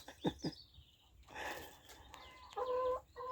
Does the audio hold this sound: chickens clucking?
yes